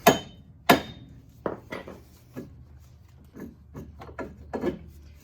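A CV axle is worked into the driver side of a 2005 Chevrolet Equinox 3.4, with two sharp metallic knocks followed by a series of softer clunks and scrapes at irregular intervals, up close and without speech.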